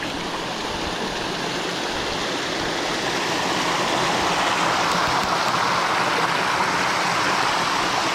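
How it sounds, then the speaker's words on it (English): Steady rushing water fills the whole stretch, a dense broadband roar like a waterfall close by, growing slightly fuller toward the end. "Pretty cool waterfalls here."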